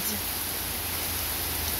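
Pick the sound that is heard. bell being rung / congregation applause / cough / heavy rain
heavy rain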